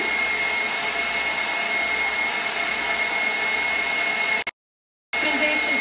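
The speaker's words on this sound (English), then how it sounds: "Louder this time because my mixer's at a higher speed." A KitchenAid stand mixer drives a pasta press attachment at a higher speed, producing a loud, steady motor whir with a constant high whine that cuts off abruptly near the end, then resumes after a brief silence.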